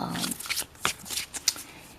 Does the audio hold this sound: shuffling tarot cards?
yes